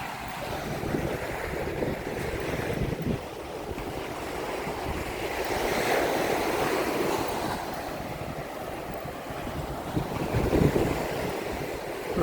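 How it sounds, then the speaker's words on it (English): Ocean surf and gusty wind at Diamond Head beach in Hawaii, a steady broad wash of waves with wind buffeting the microphone, rising slightly mid-way and with a brief louder surge near the end, no voices. "I'm gonna walk along the beach here"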